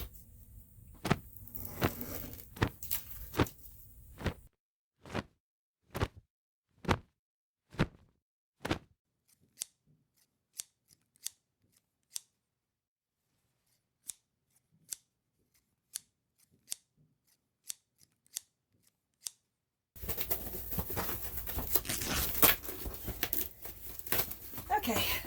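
A sharp blade slicing down through a cut-out section of bathroom flooring in a 1974 Silver Streak RV, a series of crisp, evenly spaced snips close up in near silence, framed by busier handling noise at the start and end.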